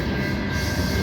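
A rebuilt CN SD75IACC locomotive rolls past close by on a northbound freight at Cantor, a steady broadband rumble of rail noise with no gaps and no voices.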